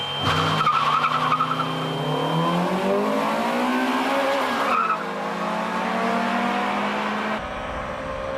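A Honda Type R race car runs loud and close, its engine revving and shifting while its tyres squeal in a long skid, the pitch sliding up and down through the run.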